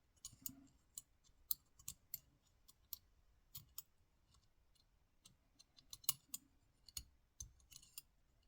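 Sharp scattered clicks of a Lishi M1/MS2 2-in-1 pick working a lock wafer, quiet and close, arriving irregularly in small bursts with brief pauses between.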